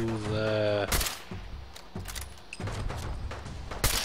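Gunfire in the video game Fallout 4, a few sharp, loud shots in quick succession over a mechanical whine and game ambience, with no talk.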